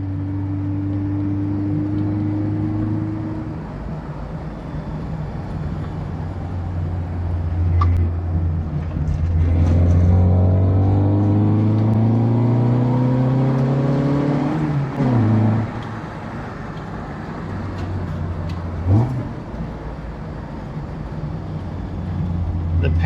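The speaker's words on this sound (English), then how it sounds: "This car is highly addictive to drive because the sounds it makes" An Autobianchi A112 Abarth's small engine hums at idle, then revs up through rising pitches, drops back, and blips again, loud and close.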